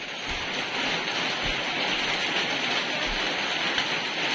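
Steady rain falls without a break, a dense, even hiss of drops hitting surfaces, with occasional faint low thumps underneath.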